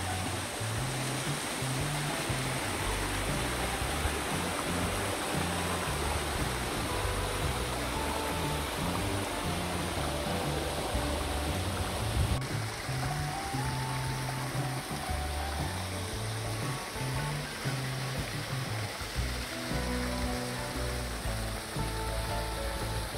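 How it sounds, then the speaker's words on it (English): A small waterfall with only a thin flow after a dry winter, on a hiking trail up Zugerberg in Switzerland, gives a steady, even rush of falling water throughout, with no voices over it. "There's not a lot of water coming down the waterfall at the moment."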